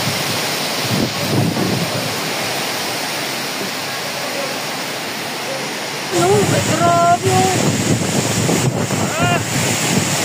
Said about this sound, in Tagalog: Grabe po ang pagsipol ng hangin